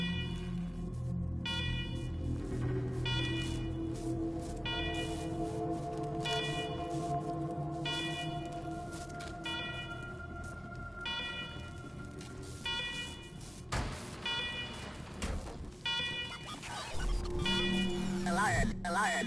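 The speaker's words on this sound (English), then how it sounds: "Noisy alarms and all." Alarms blare in the video game Wasteland 3 as a repeating electronic siren tone that keeps pulsing, with game characters talking over it.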